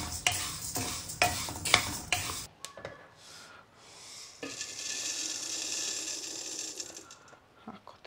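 Urad dal and mixed grains dry-roasting in a pan for homemade multigrain malt powder, with a few sharp scraping stirs at first, then a soft, steady rustle and faint sizzle.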